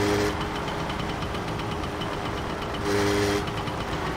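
A distant train approaching in the video game My Summer Car, heard as a steady low rumble of engine and rails that swells slightly partway through, with no speech.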